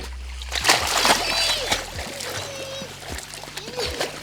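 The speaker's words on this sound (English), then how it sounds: "As soon as he's in the water, start calling him." A puppy swims in a backyard pool for the first time, sending up repeated close splashes and sloshing water while people talk and call over it.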